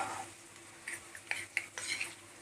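Tomato, turmeric and Malvani masala are stirred into oil in a pan for a spicy pea usal, giving quiet, scattered scraping clinks of a spoon against the pan with no talking.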